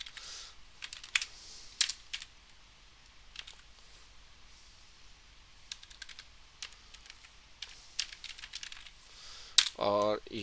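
Keys clatter on a computer keyboard in quick bursts of typing, nearby and fairly quiet, as Java code for a JDBC Oracle database program is entered, with a louder flurry of keystrokes at the end.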